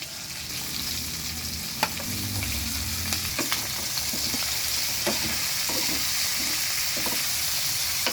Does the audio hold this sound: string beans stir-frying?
yes